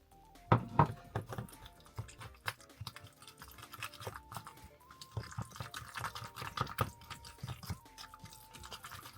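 Wet, sticky stirring and squelching of a thick alginate paste, with irregular clicks and soft splashes as water is mixed in, close and fairly quiet.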